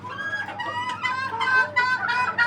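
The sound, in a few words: caged chickens clucking at a poultry farm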